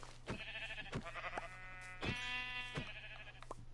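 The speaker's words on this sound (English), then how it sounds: "So much sheep." Sheep bleat repeatedly in Minecraft in long wavering calls, several overlapping, with a steady low hum underneath and no talking.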